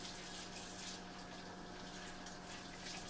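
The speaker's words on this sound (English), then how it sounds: "Let's wash our hands up." A kitchen tap runs steadily while hands are washed before making an apple banana smoothie, a continuous close hiss of flowing water with no voices.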